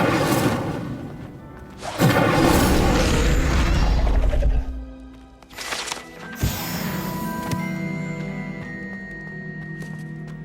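Incendio fire spell cast in the video game Hogwarts Legacy: a loud whooshing burst with crashing impacts, then a second sharp blast settling into a lingering magical ring and shimmer.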